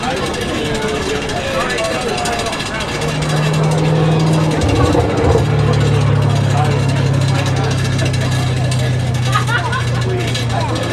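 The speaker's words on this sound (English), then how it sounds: "that engine just sitting, spinning" An American Airlines jet engine idles at Raleigh Durham airport, giving off a steady low drone and broad roar that strengthens partway through and then holds, with faint voices in the background.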